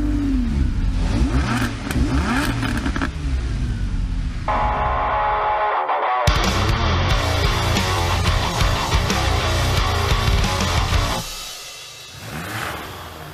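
An Audi race car revs on stage at the 2017 Audi RS3 Sedan unveiling, sending loud, sharp engine blips and sustained roars through the hall before the sound drops away at the end.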